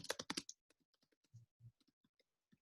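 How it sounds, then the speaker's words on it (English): Keys on a computer keyboard clack in a quick close burst, then a slower run of individual soft taps with gaps between them. "I'm not gonna keep typing all this."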